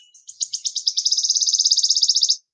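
A high, thin bird call: a few sharp chirps that speed up into a rapid, even trill before stopping abruptly, clear and close.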